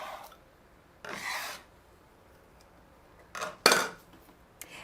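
A scraper rasps around a bowl of falafel mixture in a few short, quiet scraping strokes separated by pauses, with one sharper, brighter scrape near the end.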